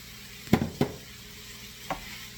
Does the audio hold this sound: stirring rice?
yes